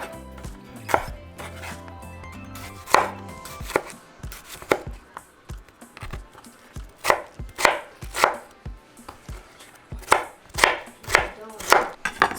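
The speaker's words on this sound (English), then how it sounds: "we're just going to cut our tomatoes into small little squares" A knife chops tomatoes into small squares on a board, with steady repeated thuds that come faster and louder toward the end, close up and with no talking.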